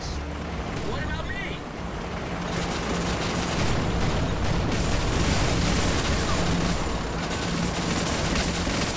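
Heavy mounted cannon fire in the Rogue Trooper Redux war game, a dense, continuous barrage of booming shots and explosions filling the whole stretch at high volume.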